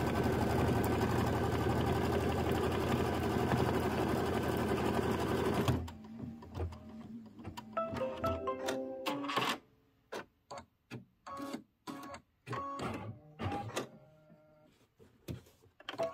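An embroidery machine stitches a placement line for a pieced quilt block, a fast steady mechanical whirr that stops partway, followed by scattered ticks and clicks of the machine resetting.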